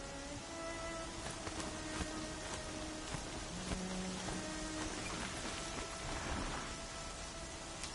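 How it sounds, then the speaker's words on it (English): Rain in Horizon Zero Dawn, a steady, soft hiss of falling water with no break, heard alone and fairly quiet, with a few faint low tones from the game's ambience beneath. "This is some rain."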